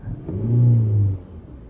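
A 2006 Toyota Camry 2.4L four-cylinder with a stalling, hesitating and lean-running fault revs up sharply on a single throttle snap, a close, loud rise in engine pitch that falls back within about a second.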